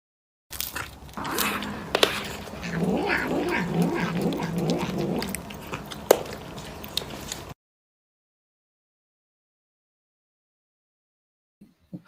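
A cat yowls and meows in a drawn-out, strained caterwaul, loud and close, with a few sharp vocal bursts. Silence follows for several seconds, then a faint brief sound.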